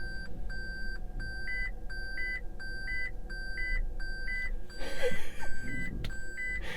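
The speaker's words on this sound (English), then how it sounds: "I don't know what that beep was, probably because I was getting close to the curb." A 2021 Toyota Prius parking sensor beeps near a curb in a regular run of short electronic tones, the rhythm shifting partway through, while a brief rustling burst of handling noise interrupts near the end.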